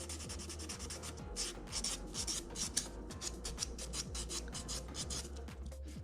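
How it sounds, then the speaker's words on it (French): A sanding block rubs back and forth over a fingernail to clear off glue residue, giving quick, repeated rasping strokes, close and quiet, with no talk. "utiliser le bloc sableur du côté assez robuste pour enlever tout résidu de colle"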